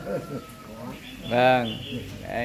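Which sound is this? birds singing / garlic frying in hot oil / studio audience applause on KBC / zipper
birds singing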